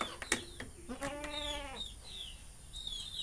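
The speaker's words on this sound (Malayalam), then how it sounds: "ഇവളെ എൻ്റെ ആട്." A goat bleats once in a clear wavering cry, close and moderately loud, amid faint rural background with a few short clicks and distant bird chirps.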